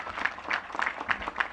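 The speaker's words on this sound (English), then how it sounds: "So give your council member Charles Allen a big round of applause" A small outdoor community crowd at a National Night Out event claps in a brief, rhythmic burst of applause for a city council member, with a few distinct claps standing out.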